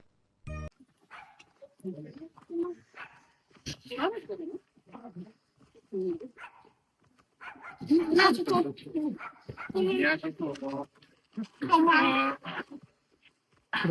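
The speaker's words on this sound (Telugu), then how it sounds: "ఇప్పుడే మన కుక్క గారు పలకరిస్తున్నారు వాళ్ళని." A dog barks and yips in short bursts close by, mixed with people talking, including a voice.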